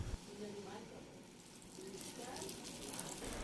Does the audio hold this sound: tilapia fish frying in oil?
yes